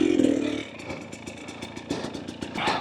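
Engine of a 2024 Husqvarna TE250 dirt bike fitted with an FMF Turbine Core 2.1 exhaust, ridden at low idle on an eroded trail, with a steady putter, rhythmic clattering pulses and a brief rise in revs near the end.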